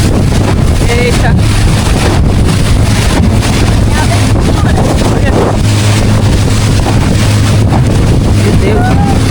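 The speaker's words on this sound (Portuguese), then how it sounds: "Tá ventando muito!" Strong wind roars continuously and loudly into the microphone while camping in the jungle, buffeting and rushing without pause, with water splashing underneath near a canoe.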